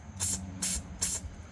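Three short, sharp bursts of aerosol cleaner sprayed through the carburetor of a Honda CRF 50 dirt bike, each hiss lasting about a quarter second with brief pauses between.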